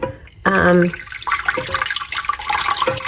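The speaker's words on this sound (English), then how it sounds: "this is a quart jar full of ice water, and I'm going to start pouring in about" Ice water pours from a quart jar into a stand mixer bowl while homemade butter is being made, with a sudden splashing gush at first followed by lighter, uneven trickling and sloshing close by.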